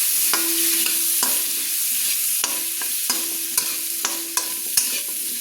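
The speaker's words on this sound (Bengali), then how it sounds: "পেঁপেটাকে লাল লাল করে একটু ভেজে নেওয়ার জন্য আমি দিয়ে দিচ্ছি লবণ 1 চামচ" Papaya pieces frying with salt and turmeric while a spoon scrapes and stirs them, giving a constant bright sizzle broken by repeated sharp clacks of utensil against pan at an uneven rhythm.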